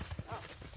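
A newly shod Karabair horse's hooves clip-clop in a few quick, quiet thuds, with faint voices nearby.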